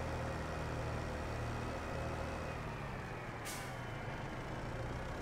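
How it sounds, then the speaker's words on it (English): A steady tractor engine drone with a faint high turbocharger whine slowly falling in pitch as it winds down, plus a short hiss of air midway through. "Hear that winding down, the old turbo winding down there."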